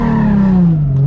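A car engine held under steady throttle while drifting, one sustained loud drone that sags slightly in pitch as it goes, with no voices.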